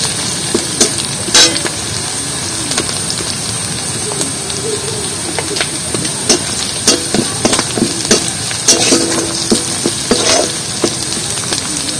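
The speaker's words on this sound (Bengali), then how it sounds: "পেঁয়াজটা একটু ভাজা ভাজা করে নেবো ভালো করে।" Onion frying in oil in a pan alongside a slit whole green chili, giving a steady close sizzle with scattered clinks and stirring sounds throughout.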